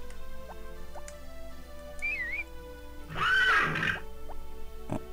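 In the Harvest Moon Back to Nature video game, a horse gives a short whinny amid soft game chimes and background music, and a louder neigh follows.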